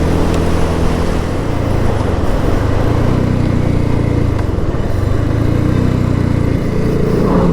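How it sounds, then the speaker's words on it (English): A loud, steady BSA Gold Star motorcycle engine rumble with a rough, throbbing tone as the bike slows under engine braking, close and continuous throughout. "Okay, reasonable engine braking."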